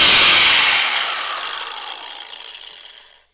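A Milwaukee angle grinder with a wobbling, crookedly mounted part gives a loud, close whirring rush that winds down and fades to silence over about three seconds.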